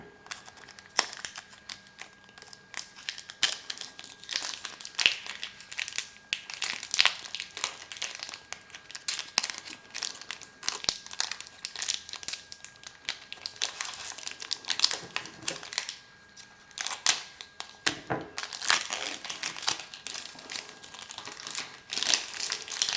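Foil wrappers of Magic: The Gathering Assassin's Creed Beyond booster packs being opened, with close, soft, continuous crinkling and crumpling and occasional sharper tearing rustles.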